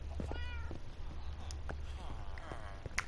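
Cat meows from a Minecraft survival game on PS4: a few short, soft mewing calls near the start and another around the middle, heard over steady low background hum and game ambience.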